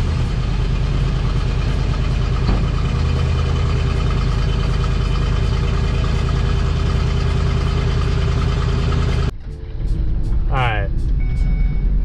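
A van engine idles loudly and steadily with its exhaust cut off, a continuous low rumble that runs for most of the stretch before dropping away near the end, where a brief voice is heard.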